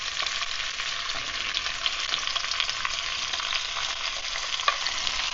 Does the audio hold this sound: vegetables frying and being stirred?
yes